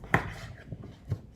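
Sweet potato being chopped on a board, three close knife thuds spaced unevenly over a quiet background.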